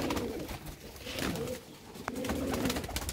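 Several pet pigeons coo near the microphone, low rolling calls rising and fading in two clear bouts with a short pause between, no one talking.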